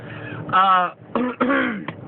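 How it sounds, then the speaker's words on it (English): Someone clears their throat several times in quick, raspy bursts, close and fairly loud. "Clear my throat."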